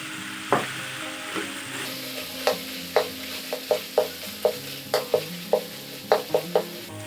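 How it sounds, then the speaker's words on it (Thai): Red curry paste is stir-fried in rendered pork belly fat for a Thai jackfruit curry, with a soft sizzle under a dozen or so sharp scrapes and knocks of a spatula against the pan, and no talking. "แล้วเราก็ใส่พริกแกงลงไปผัดเลยค่ะ"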